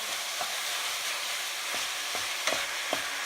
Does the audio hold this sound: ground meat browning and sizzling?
yes